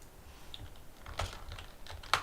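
Soft keystrokes patter on a computer keyboard, faint and irregular, with a few slightly louder taps and no speech.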